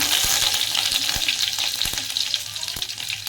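Curry leaves and mustard seeds fry in hot oil with a bright, continuous sizzle, punctuated by sharp pops and crackles of spitting seeds close by, with no voices.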